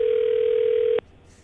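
An outgoing phone call rings out during a live Barbados morning show, a single steady ringback tone lasting about a second before it cuts off into quiet.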